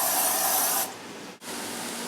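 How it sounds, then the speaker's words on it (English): Cooking spray hisses into a 9x13-inch baking dish while a shepherd's pie is made: a close, steady spray burst that drops to a softer hiss halfway through, with a brief break before it resumes. No one talks. "Take a 9x13-inch baking dish and spray it."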